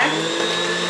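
An electric mixer on high beats cream cheese frosting for a carrot cake, a brief loud steady motor whine heard up close.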